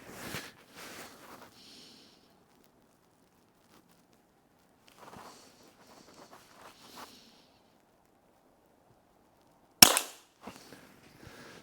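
An unsuppressed .177 air rifle, the Pinty Buster, fires once with a sharp, crisp pop. Quiet handling noise and faint rustling come before it, with a little more movement afterward.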